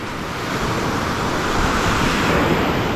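Waves wash steadily onto a sandy beach at low tide at Gentle Annie on New Zealand's West Coast, a continuous broad surf roar with no pauses, close and fairly loud.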